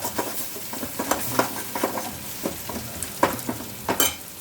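Tomato and gongura paste frying in a pan as chilli powder is stirred in, with quick scraping spoon strokes over a low sizzle, close by and without speech.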